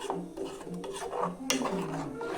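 Masala paste being stirred with water in a pan for potato kurma, a close scraping, rubbing swirl of utensil against metal with a few soft clinks, running steadily without speech.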